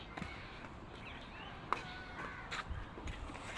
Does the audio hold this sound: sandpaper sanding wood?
no